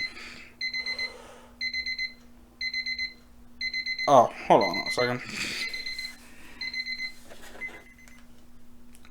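A kitchen timer alarm rings in repeated short bursts of bright electronic beeping, five or six pulses at a steady rhythm. Someone speaks briefly partway through, then the beeping resumes before fading out near the end.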